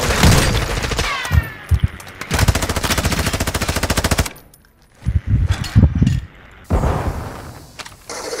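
Rapid bursts of automatic gunfire crackle loud and close in long rattling strings, broken by sharper single booms and short pauses, with faint voices in between.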